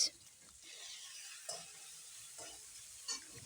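Finely chopped onion frying in oil with whole cumin and spices, a close, gentle sizzle broken by a few stirring scrapes of a spoon in the pan.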